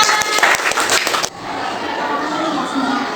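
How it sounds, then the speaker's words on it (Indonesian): In a micro-teaching classroom lesson, a group of students claps briefly, a short burst of sharp, close hand claps lasting about a second before it cuts off abruptly into quiet room noise. "Kita tepuk tangan"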